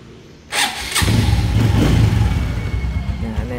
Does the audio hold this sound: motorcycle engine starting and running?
yes